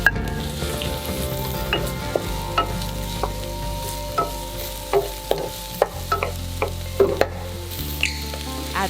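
Onion stir-fries in a hot pan for a Chinese-style batik clams with oyster sauce dish: a continuous crackling sizzle punctuated by repeated sharp utensil clacks and scrapes, close and clear, with no talking.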